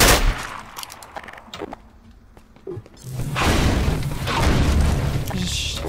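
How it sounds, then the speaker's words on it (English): A shotgun firing in Half-Life 2 Episode One, with loud booming blasts among other gunfire and heavy combat noise, while a person talks. "Oh, I didn't know I had a shotgun."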